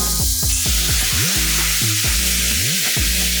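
Coconut milk, half a cup, is poured into a hot pan of browned onion and pepper, giving a steady loud sizzle over a tonal musical bed that runs for a few seconds without talk.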